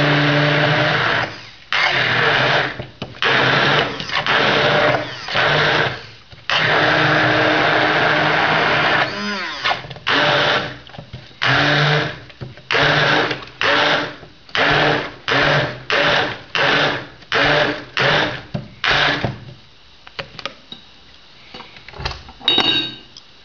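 Electric mixer blending frozen berries into homemade ice cream, a loud motor whir running in repeated bursts, long at first and then short rapid pulses with brief pauses between.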